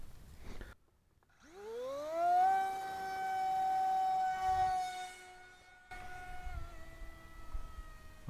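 Electric motor of a Micro Skyhunter 787mm FPV plane on 4S power spooling up at launch, a rising whine that climbs to a steady loud drone and holds before cutting off.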